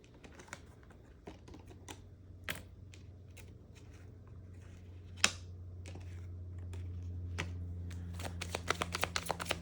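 Tarot-style cards shuffled and handled close by, heard as quiet riffling, soft flicks and sharp snaps over a low background hum, growing busier toward the end.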